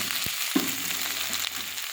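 Onion and spices for a Bengali fish curry fry in hot oil in a pan, giving a steady close sizzle with a few light stirring scrapes and knocks.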